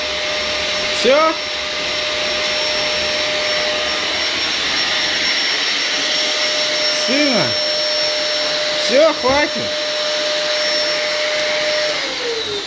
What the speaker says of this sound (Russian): Все, убираем пылесос.